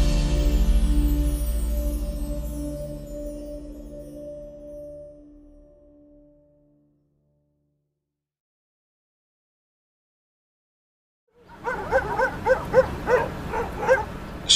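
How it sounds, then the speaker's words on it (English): Stray dogs in a Turkish city bark in a quick series of sharp, fairly close yelps near the end, after a fading low rumble and a stretch of silence. "Stray dogs have been a fixture of Turkey's cities for centuries."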